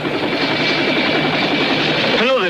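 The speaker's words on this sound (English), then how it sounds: "There's helicopters, too." A helicopter flies in a 1970 Japanese kaiju film, a loud, steady rotor-and-engine roar filling the whole stretch with no talk over it.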